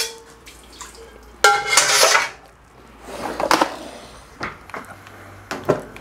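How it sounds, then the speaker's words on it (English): A carbon steel wok is rinsed with water and scrubbed without detergent: splashing, scraping and metallic clatter come in several uneven bursts between quieter gaps, close by and with no talk. "This is how we clean up."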